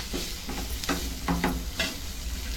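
Tomatoes and coarsely pounded ginger-garlic paste fry in a pan for a Maharashtrian matki usal, with a steady sizzle and a few scraping stirs standing out from the frying.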